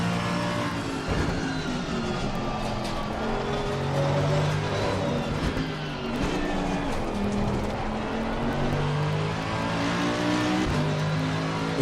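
Race car engine in Assetto Corsa Competizione on PS5, played with a Fanatec DD Pro wheel: a continuous loud, close engine note rising and falling through revs and gear changes, with faint tire noise.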